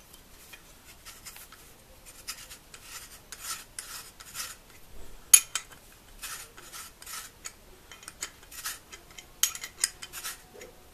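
Intermittent scraping and rasping as the intake port of a D5 engine is ground smooth by hand, short rough strokes repeating in close-up bursts with pauses between, fairly quiet, no speech.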